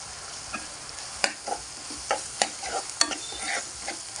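A spoon stirring sprouts curry with coriander leaves in a pan, quiet sizzling underneath with a series of distinct scrapes and clinks at irregular intervals, close and with no talk.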